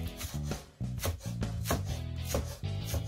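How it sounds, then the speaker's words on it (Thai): A knife chops banana blossom for Lao-style curry in rapid, fairly regular strokes, each a sharp close tap on a board, repeated steadily with only brief pauses. "แล้วก็มาหั่นนะคะ"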